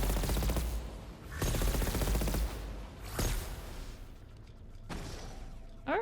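Rapid bursts of automatic weapon fire from a fast-firing, inaccurate gun in Horizon Forbidden West, three or four loud volleys separated by short pauses over steady game background sound.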